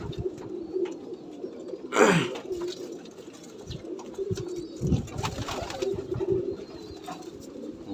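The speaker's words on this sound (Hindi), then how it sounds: "ये देखिए बड़ा प्यारा कबूतर है किसी का" Soft coos and rustling from a high-flying pigeon, close by, with a sharp burst around two seconds and a steady low background hum.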